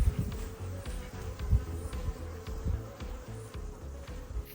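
African bees inside a wild beehive, a continuous low droning buzz with faint pulsing swells, close and steady throughout, with no talking.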